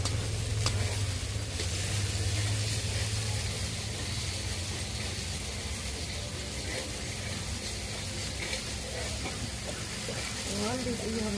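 Tomatoes with a little salt frying in a pan for a traditional Saraswati Puja bhog, a steady close sizzle running throughout, with faint voices in the background.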